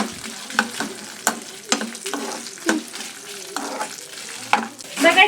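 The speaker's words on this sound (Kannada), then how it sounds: "ಇದು ಲೈಟಾಗಿ ಫ್ರೈ ಮಾಡ್ಕೊಂಡಾದ್ಮೇಲೆ ಈರುಳ್ಳಿ ಹಾಕೋಬೇಕು" Chickpeas lightly frying in a pan at home: a soft continuous sizzle under repeated sharp spatula scrapes and knocks at an uneven rhythm, close and clear, with no voices.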